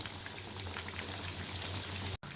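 A full batch of potato and maida snacks frying in hot oil, a dense continuous bubbling and crackling hiss at close range that holds steady until a brief break near the end.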